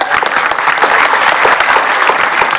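Audience clapping at a school meet gathering, a dense steady applause of many hands filling the whole stretch, loud and close, with no talk over it.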